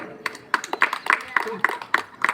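An audience at a Marathi folk comedy performance gives quick bursts of clapping, sharp and fairly close, with claps arriving in uneven clusters while a voice talks over them.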